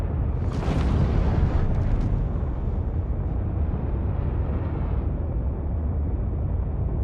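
Deep rumbling explosions from bombing ground targets in an aerial combat video game, a dense low roar that swells early and keeps booming steadily throughout.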